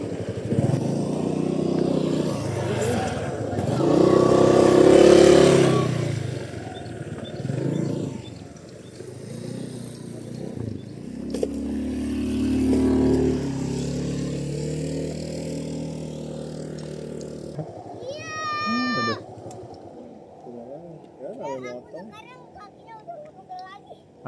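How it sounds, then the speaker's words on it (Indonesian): A motorcycle on a mountain road near a family campsite rumbles up and passes close, its engine swelling loud and then fading, with people talking over and after it. "Awas ada motor sayang, sini sayang."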